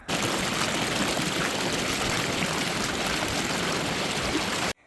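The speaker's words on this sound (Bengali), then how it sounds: "এখানে শুধুমাত্র জলের আওয়াজ ছাড়া তোমরা কিচ্ছু শুনতে পাবে না" A mountain stream near Darjeeling rushes steadily and loudly, close by, as a continuous broadband wash of flowing water with no voices, holding constant for nearly five seconds before cutting off.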